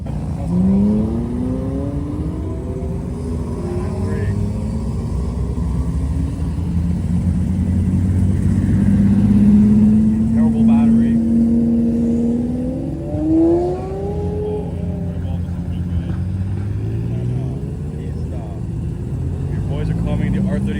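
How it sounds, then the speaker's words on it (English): Several hypercar engines rumble and rev as they roll slowly past at a Miami museum gathering, pitch rising and falling, with people talking over them. "we do have some of the 100 Club cars rolling into MODA now"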